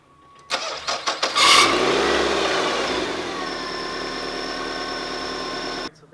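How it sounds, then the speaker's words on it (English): A 2006 Nissan Altima engine cranks through several quick starter turns, catches with a rising roar, then settles into a steady, close idle before cutting off. "I started the car back up basically just to build oil pressure."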